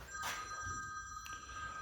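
A telephone bell rings indoors, a steady tonal ring with a short burst near the start, moderately close and alone.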